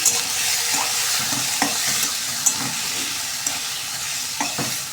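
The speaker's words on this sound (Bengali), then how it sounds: "ডিমটাকে একটু লাল লাল করে ভেজে নিচ্ছি" Peeled hard-boiled eggs fry in hot oil in a pan, giving a loud, steady sizzle with occasional spatters and stirring taps. No voices.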